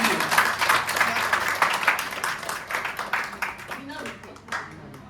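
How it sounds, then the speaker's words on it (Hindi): Crowd clapping for parents at an Independence Day celebration on 15 August, a dense patter of hands that stays steady and slowly thins toward the end, with voices chattering underneath. "हमें उन माँ बाप के लिए भी जोरदार तालियां बजानी चाहिए।"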